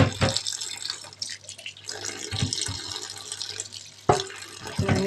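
Water runs from a kitchen tap over taro being washed in a sink, a close, steady splashing stream with occasional louder gushes and handling splashes.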